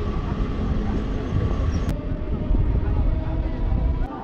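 Steady, loud rumble of a moving local train from Howrah heard from inside the carriage, a continuous low roar of wheels and car body with a couple of brief clicks, and no talk.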